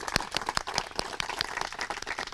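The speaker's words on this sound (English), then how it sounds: "Now that deserves a round of applause" A round of applause rises from a crowd at a Gwinnett County park recreation center groundbreaking: scattered, fairly faint claps overlapping in an uneven patter.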